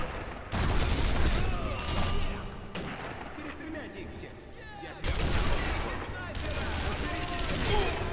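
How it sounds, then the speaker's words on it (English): Distant firefight in the video game Sniper Elite V2, with dense, overlapping bursts of gunfire and heavy booms rolling on continuously, the volume surging and easing in waves. "Sounds like there's a bit of a firefight going on out there."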